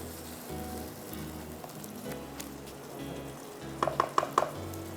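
Masala frying in a pan while being cooked down for chicken handi, a soft continuous sizzle at moderate distance, with a few sharp clinks of a utensil near the end.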